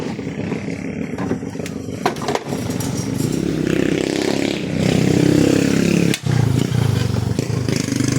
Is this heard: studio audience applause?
no